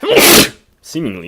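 A single loud, close sneeze, then a brief pause and a short bit of speech.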